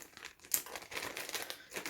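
Close plastic bag crinkling, a continuous rustle of crackles and rustling pulses at moderate volume with no voices.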